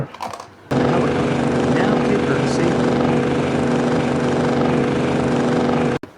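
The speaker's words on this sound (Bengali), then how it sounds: "দেখো কি সুন্দর একটি হেলিকপ্টার" A toy helicopter's buzzing motor starts abruptly and runs in a steady, close whir, then cuts off near the end.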